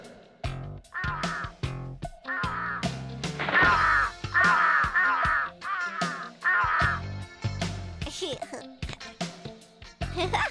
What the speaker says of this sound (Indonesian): ada gagak yang mengincar kesemek kering itu